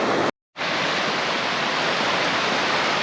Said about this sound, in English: So we follow along up here, following the river.